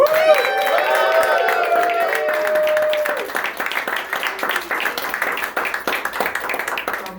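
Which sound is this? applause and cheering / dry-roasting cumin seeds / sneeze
applause and cheering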